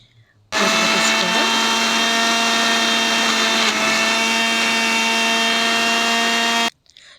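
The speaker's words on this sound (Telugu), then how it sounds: "నేనైతే మిక్సీ జార్లో వేస్తున్నాను మిక్సీ పట్టుకుందామండి" A mixer grinder whirs loudly and steadily, grinding ridge gourd chutney in a mixie jar. The motor starts abruptly, runs for about six seconds and then cuts off.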